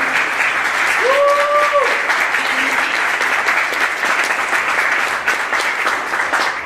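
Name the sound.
audience cheering and applauding at party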